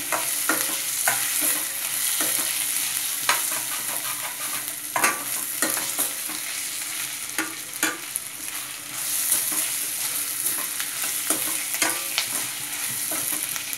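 Mutton with ginger garlic paste stirred in a pot over a high flame: continuous loud sizzling with repeated sharp scraping strokes of a spoon, close and without talk.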